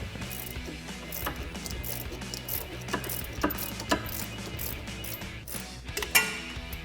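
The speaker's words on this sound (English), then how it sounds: "I've got 15 and 16mm ratcheting wrenches to remove that bolt" A 15 and 16mm ratcheting wrench turns a sway bar end link bolt on a 2011-2019 rear-wheel-drive Dodge Charger, producing rapid, close metallic clicks in uneven bursts with no talking.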